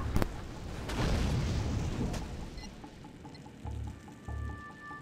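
Ordnance striking vehicles in the strategy game Act of War: Direct Action, giving a few booming impacts early on that fade into rumbling battlefield noise, then small beeps and low thuds.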